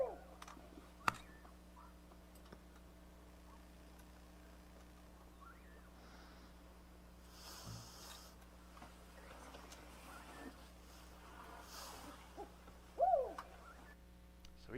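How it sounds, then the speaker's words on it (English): A black-banded owl hoots in a Pantanal wetland at night, a few faint, distant calls rising out of a quiet background hum, with a brief louder call near the end. "black-banded owl, I think it was. So it sounds a lot like our barred owl locally."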